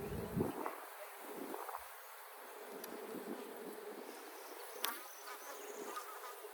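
Honey bees swarm around brood frames being moved to a bigger box, a soft, steady buzzing hum that carries on throughout with a few faint knocks and rustles.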